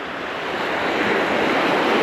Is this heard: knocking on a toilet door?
no